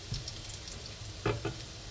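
Onion hits hot oil in a pan, giving a brief steady sizzle with a couple of louder crackling bursts at close range.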